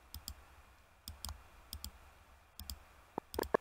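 Sharp clicking noises come through a stream's audio during an OBS session, irregular pairs and clusters of crisp clicks over a quiet background, with no voices.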